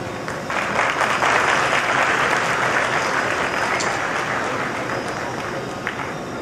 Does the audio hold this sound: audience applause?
yes